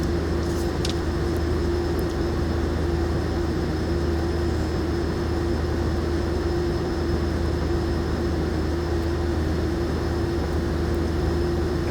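A Pilatus PC-12 turboprop taxis in X-Plane 11, its engine giving a steady, continuous drone with a constant hum and whine, unchanging and alone without talk.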